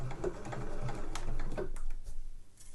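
Sewing machine running a short back stitch at the start of a seam on a festive fabric cushion cover, a close, steady mechanical whirr with rapid needle ticks for under two seconds, then quieter.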